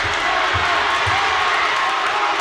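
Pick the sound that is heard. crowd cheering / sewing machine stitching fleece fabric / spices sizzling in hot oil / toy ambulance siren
crowd cheering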